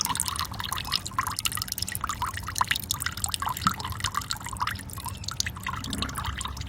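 Worm farm liquid draining from a tap into a bucket, a close, continuous trickle and splash of liquid with a steady pattering texture, heard alone without talk.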